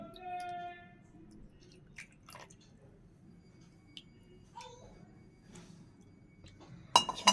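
Plates and metal utensils clink during Lakshmi puja preparation at home, scattered light clinks and taps with a louder clatter near the end, close by in a quiet room.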